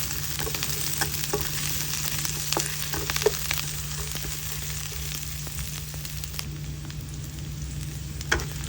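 Onions sizzle and fry steadily in a hot pan, a continuous close crackle with occasional sharper pops and stirring scrapes, no voices.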